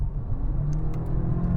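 A BMW M8, Nissan GT-R and Ferrari V12 accelerating together from 50 mph in a rolling race, heard as a steady, muffled engine drone with whirring road noise, as if from inside a car.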